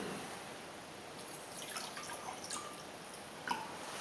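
Water trickles and drips into a beaker holding potassium hydroxide for dissolving, faint and close, with a few soft splashes and a brief louder drip near the end, no talking.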